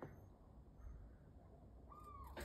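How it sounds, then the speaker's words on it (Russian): An owl hoots faintly outdoors in a quiet setting, a soft distant call near the end over low background hiss, with no talking. "Сова."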